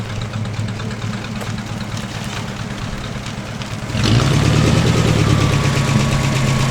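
A 1934 Ford Coupe engine, just fitted with a new head gasket, idles with a close, steady rumble that grows noticeably louder and fuller partway through.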